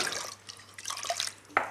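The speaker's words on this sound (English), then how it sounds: "so we put a little bit of water in the dal" Water is poured into a pot of dal, a light splashing and dripping trickle with a few small plops.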